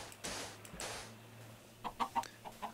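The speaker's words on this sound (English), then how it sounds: "Hi, chickens! Get out of my way." Minecraft chickens cluck in a few short, quiet bursts near the end, after a soft hissing footstep-like scuffle in the game world.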